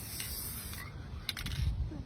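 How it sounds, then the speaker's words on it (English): Aerosol spray paint hisses steadily onto a wreath for under a second, then stops, followed by a few light clicks and rattles of the can. "So I'm going to spray it."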